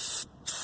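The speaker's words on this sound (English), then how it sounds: "clean the backing plate thoroughly in the contact areas where the parking brake shoes rest on with some brake cleaner" Brake cleaner sprayed onto the rear backing plate of an Infiniti G35 during parking brake work: two short, close, sharp aerosol hisses separated by a brief pause.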